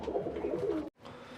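Pigeons kept in a loft coo softly in low, throaty murmurs, breaking off briefly near the end and then continuing faintly.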